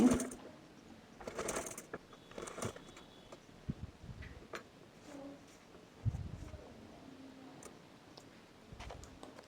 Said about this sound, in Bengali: এবার ষাটটি সেলাই দিয়ে দিচ্ছি